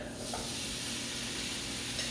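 Tomatoes sizzle in hot oil, a steady crackling hiss at low volume with no talking.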